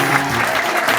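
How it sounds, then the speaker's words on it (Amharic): A church congregation claps steadily and loudly throughout, a dense wash of applause praising God with no voices standing out. "አጨብጭቡ ለእግዚአብሔር።"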